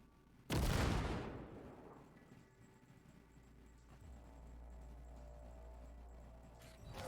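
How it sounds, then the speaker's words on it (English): A grenade detonates in a video game: one sudden, loud blast that decays into a long rumbling tail, followed by a steady low hum. "Now, detonate the grenade."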